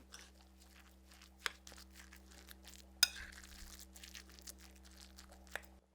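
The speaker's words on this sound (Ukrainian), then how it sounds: "Всі інгредієнти разом з фаршем ретельно перемішуємо столовою ложкою." Soft, wet squelching of a tablespoon working through a thick minced meat mixture, with a few sharp clicks of metal against a bowl, quiet and close.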